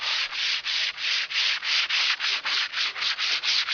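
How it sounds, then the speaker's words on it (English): Hand sanding the second paint coat on a cornhole board, a close, loud, rhythmic rasp of back-and-forth strokes, roughly three per second, with no talk. "we're back to sand coat number 2 off"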